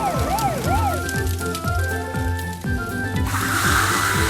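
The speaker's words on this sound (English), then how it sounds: "The fire engine is here to put out the fire." Cartoon fire engine siren wailing in repeated rising and falling sweeps over bouncy music, loud and close, shifting to a hissing water spray near the end.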